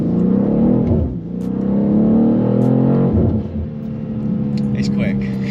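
A BMW G87 M2 accelerates hard with near-instant gear shifts, its engine note climbing in rising sweeps that break sharply at each shift, loud and close, with a voice talking over it.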